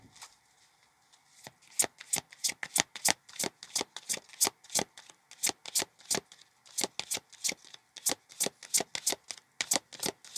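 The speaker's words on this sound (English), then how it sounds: "Gonna do one more shuffle" Tarot cards are shuffled by hand in a quiet room, a rapid series of crisp, close riffling slaps in irregular bursts, about two dozen distinct strokes with no talking.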